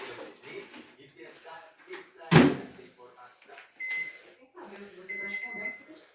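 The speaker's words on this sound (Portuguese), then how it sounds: "agora vamos por 4 minutos no micro-ondas." A microwave oven hums steadily while cooking a bag of popcorn, with a sharp click or thud partway through and faint intermittent noises under continuous talk.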